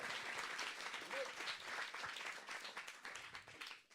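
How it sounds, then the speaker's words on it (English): Office audience applauding during a city innovation app challenge in Palo Alto, a dense burst of many hands clapping that holds steady for a few seconds before thinning slightly at the end. "Come on, let's clap, please."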